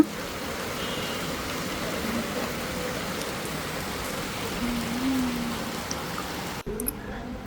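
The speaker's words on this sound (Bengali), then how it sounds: "এখানে তো অনেক বৃষ্টি হইতেছে" Steady rain hisses on surfaces without a break, an even wash of noise that stops abruptly near the end.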